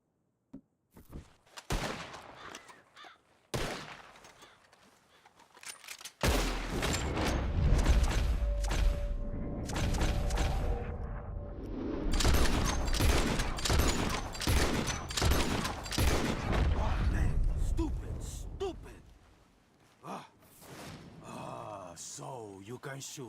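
Gunfire aimed at birds flying overhead in Red Dead Redemption 2: an early scattered pop or two, then a long dense fusillade of loud overlapping shots with a brief lull, a few gasps and groans mixed in.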